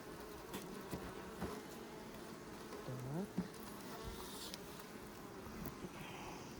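Honeybees buzzing around an open beehive, a steady low drone that stays constant throughout, with faint handling noises and occasional higher whines from single bees passing close.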